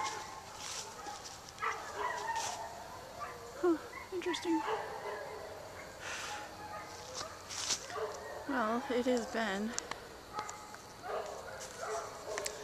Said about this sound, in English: Dogs are on the other side of the river though.